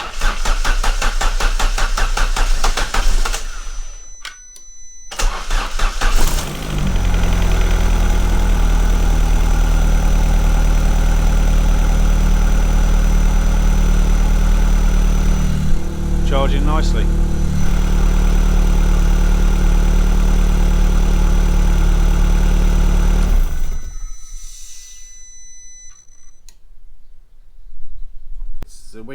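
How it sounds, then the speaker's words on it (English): A classic Mini's engine cranks and catches, then settles into a steady, loud idle that runs for most of the clip before cutting off, with a brief voice heard early on. "we can start the engine"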